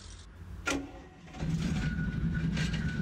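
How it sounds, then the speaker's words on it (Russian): A LiAZ 677M city bus engine starts in the OMSI 2 simulator. A short cranking burst is followed by a steady low rumble as the engine settles into a loud idle. "Давайте запускать данный автобус."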